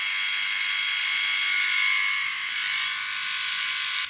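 A Silvercrest SRR 3.7 D5 rotary electric shaver runs steadily with a close, high-pitched buzzing whine that holds even throughout.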